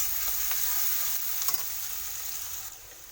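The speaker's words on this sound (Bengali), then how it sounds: "রসুনটা একটু ভাজা করে নেবো ভালো করে" Garlic frying in a pan for khichuri gives a short, steady close sizzle with a few soft stirring scrapes.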